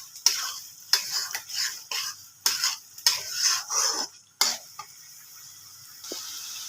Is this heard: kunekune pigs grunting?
no